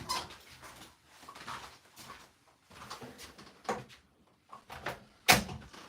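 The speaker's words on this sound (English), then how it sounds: "I'll just close the door for a second and record this." A door closes indoors with a sharp thud near the end, after soft shuffling and rustling movement in a quiet room.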